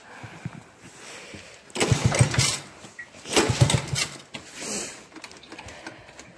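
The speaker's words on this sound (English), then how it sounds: "Now I'm going to start it up for you." A cold Honda ATC 110 three-wheeler engine is cranked over in repeated bursts, three loud churning attempts separated by pauses, close by and without speech.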